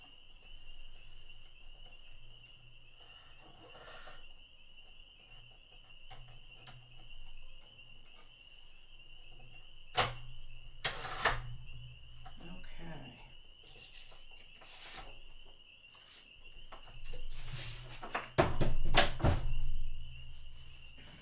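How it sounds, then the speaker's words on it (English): Spring peeper frogs call outdoors in a steady high-pitched chorus that persists throughout, heard faintly in the background beneath scattered indoor knocks and bumps, with a person talking at times. "those are my peepers"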